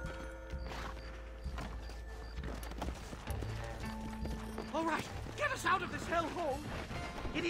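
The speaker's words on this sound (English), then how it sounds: "Oh god, my horse is too fast." A horse gallops in Red Dead Redemption: rapid hoofbeats clatter along with game voices and scattered bangs, and the pace picks up toward the end.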